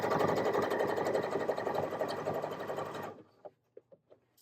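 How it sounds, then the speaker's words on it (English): A JOANN sewing machine sews a zigzag stitch with a fast, steady mechanical whir for about three seconds. It then stops, leaving a few faint clicks and taps. "let me sew it this way"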